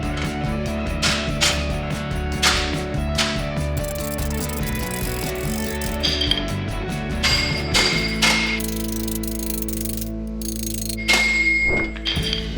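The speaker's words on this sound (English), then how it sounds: "It is the perfect shape to hammer out this panel on." Repeated metallic hammer blows shaping a steel patch panel over a steel form during repair of a Jeep XJ, uneven rhythm, close and ringing over constant shop noise.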